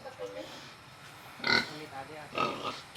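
A pig grunts and snorts a few times at close range, with faint background noise and a voice nearby.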